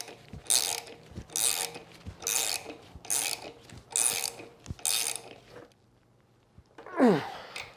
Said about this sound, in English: This is a pass-through wrench.